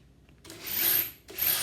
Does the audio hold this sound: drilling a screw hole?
yes